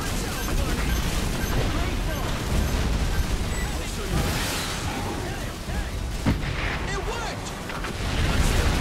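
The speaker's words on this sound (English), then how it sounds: "Death beam cannons." Death beam cannons in Earth Defense Force 5 fire in a loud, continuous roar of booming blasts that rumble on without pause.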